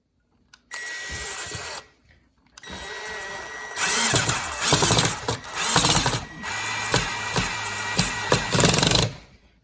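A power drill drives 1.5-inch screws up into a header board while blinds are installed, a close whirring in several separate bursts with short pauses between, the motor speed varying through each run.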